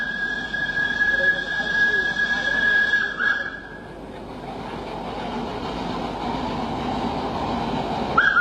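An old Javanese tram runs on its rails near the harbour at Ujung, a steady rumbling clatter of wheels and carriage with a thin high whine early on, continuous and fairly close, with voices mixed in.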